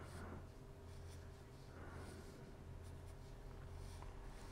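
Pencil sketching faces on paper, a faint, continuous scratchy scraping of strokes over a low steady background hum.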